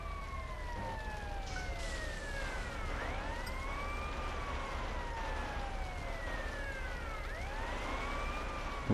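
A fire truck siren in the video game GTA Vice City Stories wails, sweeping up and down repeatedly over a steady low rumble, with layered overlapping tones, loud and continuous with no talking.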